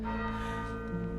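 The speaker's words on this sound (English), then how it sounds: "the bell of tyranny tolls" A church bell tolls with a sustained, ringing metallic tone, loud and close, in a dark game setting.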